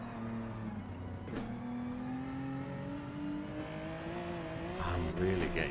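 A race car engine in a racing video game drones quietly with a continuous whine that slowly rises in pitch and swells briefly near the end.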